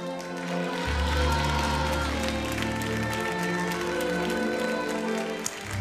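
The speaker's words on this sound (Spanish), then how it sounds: "Natalia Ferli, un aplauso para ella, tan fuerte como el que le estaban dando." A television studio audience applauds for Natalia Fairley, a sustained wash of clapping mixed with loud studio music running underneath for the whole stretch.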